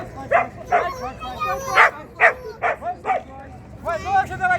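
A small dog barks and yips in a quick, uneven series of close, loud barks, with softer whimpering sounds between them.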